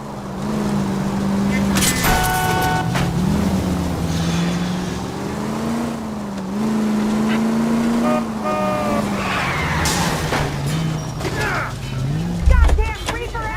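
A car engine revs and drones continuously with brief tire squeals during a chase in the video game L.A. Noire, while a voice talks excitedly over it.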